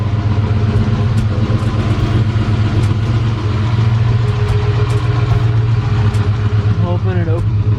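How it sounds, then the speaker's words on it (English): High-mileage Chevrolet Sierra 6.0 V8 idles steadily after a cam swap, with loud lifter ticking over a constant low engine drone, close up. "kind of loud on the lifter noise."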